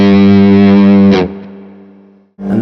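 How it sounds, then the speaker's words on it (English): Electric guitar through a Jubilee Silver Overdrive with spring reverb on, playing a loud sustained distorted chord that rings out and decays with a reverb tail before a new chord is struck. "So we put the spring reverb on."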